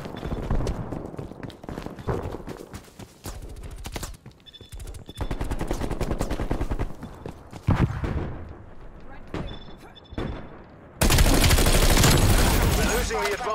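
Shotgun gunfire in the video game Black Ops Cold War, loud heavy blasts in irregular bursts mixed with other shooting and a louder sustained barrage near the end, with a voice speaking in between.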